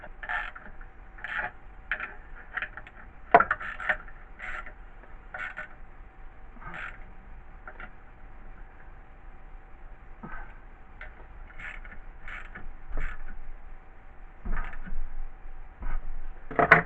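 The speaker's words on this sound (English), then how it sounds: "Ratchet with the 1/2 inch socket on it." A ratchet with a half-inch socket turns during a compressor rebuild while rings, pistons and rods are installed, giving faint, sparse clicking bursts at an uneven pace in a quiet space.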